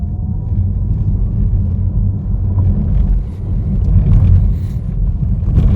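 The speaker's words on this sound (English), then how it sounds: "This road surface is completely broken up, but it's still quite comfortable in here." Renault Megane E-Tech car driving over a broken-up road surface, heard from inside the cabin as a continuous loud low rumble with faint knocks and no talk.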